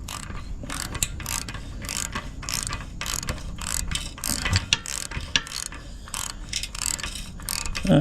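A ratchet wrench clicks in quick repeated bursts while a winch is being wired, close and fairly loud, with rhythmic strokes of rapid pawl clicks and small knocks in between.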